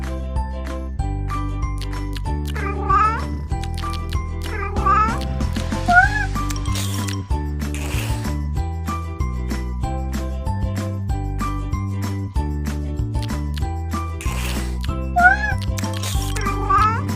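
Cartoon kitten meows in a children's cat care game, several short high mews repeating at intervals over a bright, jingly looping game tune.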